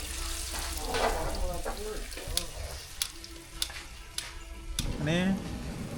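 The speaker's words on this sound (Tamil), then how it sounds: "சாம்பார் இறக்கியாச்சு இப்போ தாளிச்சிடலாம்" Spices for sambar are tempered in hot oil, crackling and sizzling in bursts with sharp pops and a stirring scrape, while people talk nearby.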